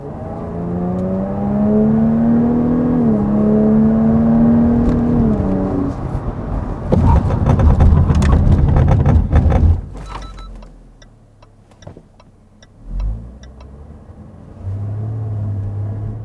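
Supercharged rear-wheel-drive Jaguar F-Type P380 accelerating hard with a loud, rising engine note, then a burst of rumbling road and brake noise as it hauls to a stop, followed by quieter idling and short engine blips; no talk.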